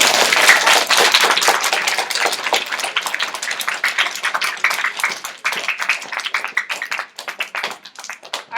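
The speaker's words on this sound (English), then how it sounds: "Round of applause." A class of schoolchildren claps during a video call with a Paralympian, a lively round of many hands, strongest at the start and gradually thinning and becoming more scattered toward the end.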